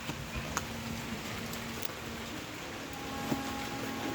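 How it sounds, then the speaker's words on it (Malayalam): Steady rain falling during a storm in Annassery, Kerala, a dense continuous patter with a few louder drips and ticks, moderately loud and even throughout, with no voices. "എന്നാലും മഴ പെയ്യുന്നുണ്ട് കേട്ടോ ഗൈസ്"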